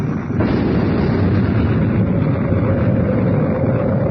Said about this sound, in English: an explosion inside the Sphinx